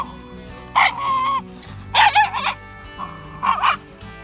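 A rescue dog grumbles in three short bursts of throaty, whiny vocalizing, close and fairly loud, separated by brief pauses over a low background hum.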